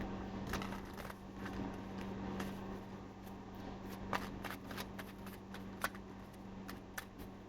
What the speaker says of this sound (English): mean to shuffle my cards while I was trying to pray, so you can hear it.